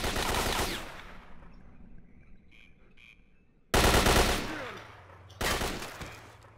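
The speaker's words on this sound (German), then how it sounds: "Oder ich verballere noch mehr Munition mit dem Scharfschützengewehr." Loud sniper rifle shots in S.T.A.L.K.E.R. Call of Pripyat, three sharp reports spaced over several seconds, each with a long decaying echo and quieter ambience between.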